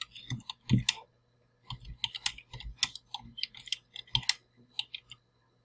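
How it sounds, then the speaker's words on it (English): Loud computer keyboard typing, bursts of sharp clicky keystrokes in quick irregular runs with short pauses, close to the microphone. "I'm sorry that my keyboard is pretty loud."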